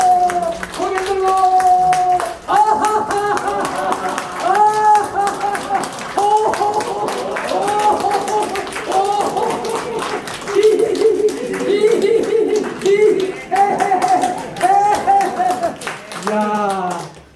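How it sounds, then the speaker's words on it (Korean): A group of elderly participants at a church-run seniors' school claps hands during an exercise routine, rhythmic clapping running under chanted, sing-song voices that carry throughout. "박수 치고"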